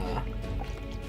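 Watery paint is stirred after water is added, giving close wet squishing, dripping and sloshing sounds in an uneven rhythm with no talk.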